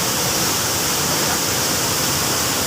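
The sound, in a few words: twin waterfall at Bangunrejo, Solok Selatan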